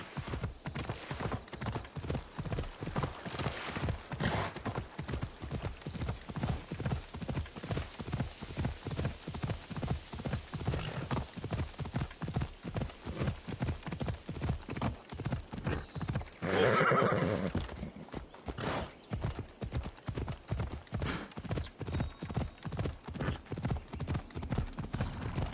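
A horse in the Assassin's Creed Odyssey video game gallops with a rapid, steady clip-clop of hooves, and a loud whinny rings out partway through.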